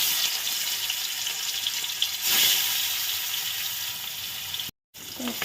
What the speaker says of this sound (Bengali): এই কড়াইয়ের মধ্যে দেবো হচ্ছে মাছ, মানে হচ্ছে মাছ ভাজবো 2 পিস